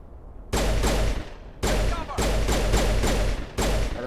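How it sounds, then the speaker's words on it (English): Heavy sniper rifle fire in the sci-fi shooter Mass Effect: several loud, sharp shots that come in bursts, each one ringing briefly before cutting off, separated by short gaps. "A sniper? I think it's a sniper."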